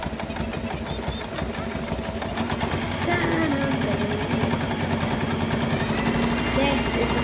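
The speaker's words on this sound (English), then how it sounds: "let's do a bit of sewing" A sewing machine stitches fabric for bunting, its fast steady needle clatter running close and continuous, picking up speed partway through.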